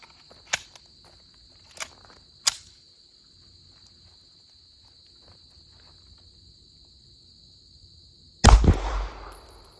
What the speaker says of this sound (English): I just do 1 round to start just to make sure that everything cycles properly